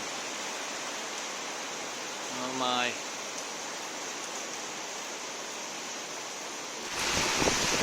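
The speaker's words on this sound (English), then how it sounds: "The rain is pouring." Steady, dense rush of heavy rain pouring off a roof, loud and continuous, with a brief voice exclaiming partway through and a surge in the downpour near the end.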